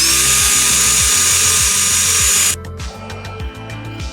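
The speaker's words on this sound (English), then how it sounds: "First hole to drill will be for a 1/4 tap" A power drill whines loudly and steadily for a couple of seconds boring a hole for a 1/4 tap in a bracket on a Hardinge HLV-H lathe, then cuts out, leaving a quieter mechanical hum.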